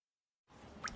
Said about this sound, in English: it's your ceiling vent, so I'm dripping